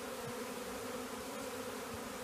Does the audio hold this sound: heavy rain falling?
no